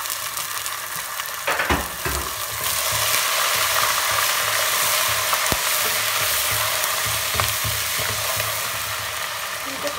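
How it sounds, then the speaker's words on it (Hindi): Steady sizzling of ginger-garlic paste frying in hot oil, with occasional scraping and clinks of a spoon stirring the pan. "थोड़ा सा फ्राई करके अदरक लहसुन का पेस्ट"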